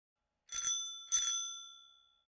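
Two bright metallic rings of a bicycle bell, close and clear, the second following about half a second after the first and fading out slowly in silence.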